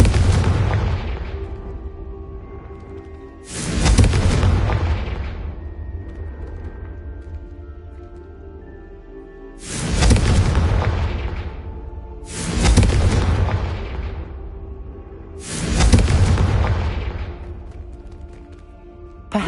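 Four booming Confringo spell explosions in a wizard video game, each a sudden heavy blast followed by a long rumbling decay, spaced a few seconds apart, loud and alone without talk.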